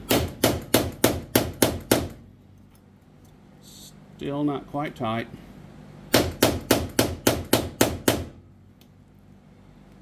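Hammer blows on a punch setting a snap on a Livin' Lite Quicksilver tent camper: two rapid bursts of about eight sharp, ringing metallic strikes each, close and loud, with a short stretch of talking between them.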